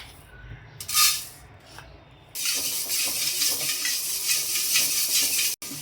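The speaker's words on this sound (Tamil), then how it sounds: "படப்படன்னு பொரியும் பொரியறப்ப ஆஃப் பண்ணிடலாம்" Fenugreek seeds crackle and sizzle in a hot pan, brief pops at first, then a dense, steady frying hiss that continues until a sudden cut.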